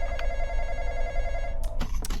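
A phone rings inside the Roblox horror game The Intruder, a steady electronic tone that holds for about a second and a half and then breaks into short bursts of ringing.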